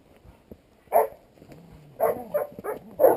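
Several short dog barks and yips ring out close by in an outdoor setting near pigs, scattered in quick bursts with brief pauses between them.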